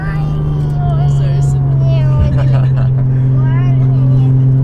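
The engine of a Nissan Skyline R34 GTT coupe with about 500 horsepower drones steadily and loudly from inside while it drives on boost, with a brief shift dip midway and faint whistles above, under talk.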